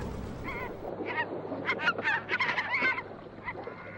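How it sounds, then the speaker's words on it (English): A bird calls repeatedly in a series of honking, goose-like notes while flying over a river in the Sundarbans mangrove forest, heard from a boat at moderate distance over a low engine hum. "I see an unknown bird is flying over and over."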